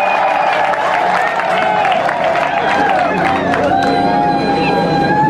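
A crowd at a village ceremony marking the outing of a traditional king applauds and cheers him, loud and close, with voices and a tonal backdrop mixed into the clapping.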